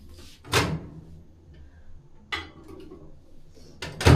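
A microwave oven door clunks open and shut as ragi biscuits go in, with sharp knocks and a rattle of a tray, separated by quiet gaps, close by.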